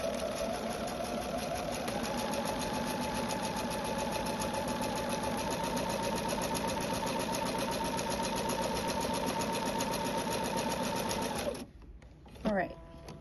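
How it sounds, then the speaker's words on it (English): A sewing machine stitches fabric for flying geese quilt blocks, a fast steady mechanical whir and rapid needle clatter running continuously for about eleven seconds before stopping, followed by brief handling noise. "And I'm just going to sew along this line."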